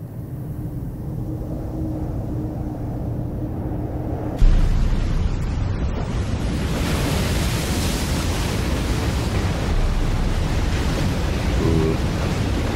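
Ocean waves as a steady, dense wash of surf noise that suddenly grows louder and fuller partway through, then holds as a constant rushing roar.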